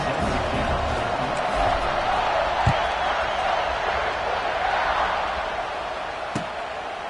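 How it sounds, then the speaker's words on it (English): A football stadium crowd buzzes steadily after a score, a dense roar of voices throughout with a couple of brief sharp knocks. "this crowd is buzzing after that last score"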